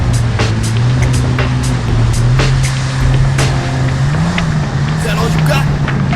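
A boat runs on choppy 2-to-3-foot seas off Fort Lauderdale, its engine droning loud and steady while hull slaps and wind rush come through in repeated bursts.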